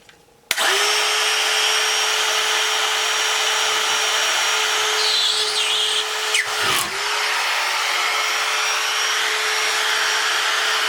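A DeWalt cordless drywall screw gun drives screws into a wall, its motor whirring in one sustained close, loud run for several seconds, with a brief stop and quick restart near the end.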